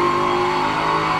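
A race car in iRacing at the Nürburgring howls at full throttle through a fast corner, a steady, loud, sustained engine tone with no voices.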